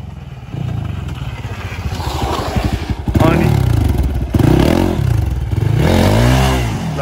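A scooter's engine drones and revs unevenly while being ridden, staying close and fairly loud, with a person talking over it almost throughout.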